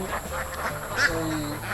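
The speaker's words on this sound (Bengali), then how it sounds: "মজিবর ভাই আপনার এই হাঁসগুলো এখন কি ডিম পারা শুরু করছে" Ducks on a duck farm give a few short, nasal quacks over a busy, noisy outdoor background.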